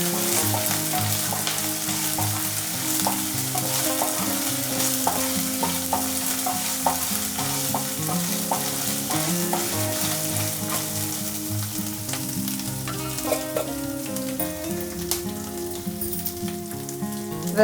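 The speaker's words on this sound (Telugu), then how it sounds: "ఈ అల్లం పచ్చివాసన పోయే వరకు ఫ్రై చేసుకోవాలి." Ginger and curry leaves frying in a pan for chitranna rice: a steady, close sizzle with frequent scraping and clinks of stirring throughout, no voices.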